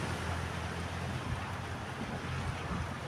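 Strong wind blowing steadily outdoors, a loud continuous rushing roar with low buffeting on the microphone and no pauses.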